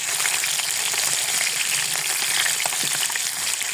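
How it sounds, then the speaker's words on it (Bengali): Soft phaisha fish being fried crisp in hot oil, heard as a loud, close, unbroken sizzle with fine crackling and occasional small pops. "মাছটা নরম যেহেতু একটু কড়া ভাজা দিব।"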